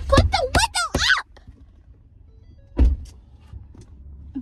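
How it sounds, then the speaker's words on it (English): A car's power window whirs briefly after a few sharp spoken words, a short motor buzz inside the cabin followed by a quiet bump and low background hum. "Put the window up!"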